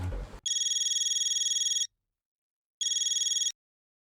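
A telephone rings in an Indian TV comedy scene, sounding two electronic ring bursts: one long trill, a pause, then a shorter one. A brief moment of talk comes just before the first ring.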